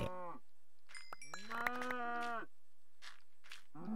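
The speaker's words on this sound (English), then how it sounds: "I will save you, cows." Video game cows moo in a few drawn-out, tonal calls, one short and then a longer, louder bellow, fairly close and clear against a quiet background with no talking.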